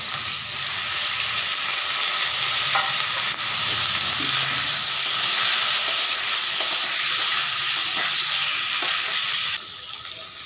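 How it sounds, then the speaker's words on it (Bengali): Pieces of bottle gourd fry in oil left over from frying fish, a loud, steady close sizzle with occasional stirring clicks, dropping quieter at the very end. "এবার ওই মাছ ভাজা তেলে আমি লাউগুলোকে ভেজে নেব"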